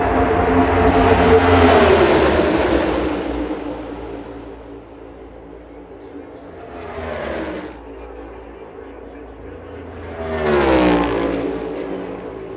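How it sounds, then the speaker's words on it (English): Race cars in the Yellawood 500 roar past in waves: one long loud pass fades out, then two more cars sweep by with rising and falling engine whines, with no voices over them. "Cars racing."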